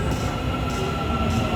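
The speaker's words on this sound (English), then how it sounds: "this is the metro." An Istanbul metro train rolls along with a loud, steady rumble of wheels and carriage, a faint metallic squeal riding on top, close and continuous, with no talking.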